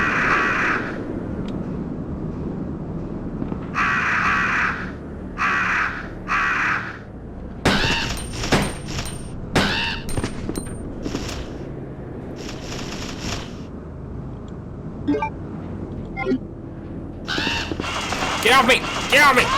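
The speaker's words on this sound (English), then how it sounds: "And here's the birds." Crows cawing and flapping as they attack in Resident Evil 2 (1998), repeated harsh bursts with wingbeats and game gunfire, under and between a person talking and shouting.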